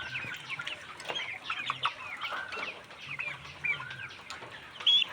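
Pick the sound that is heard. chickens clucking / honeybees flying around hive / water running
chickens clucking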